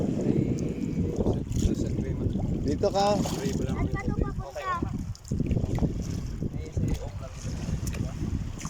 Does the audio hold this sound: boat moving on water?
yes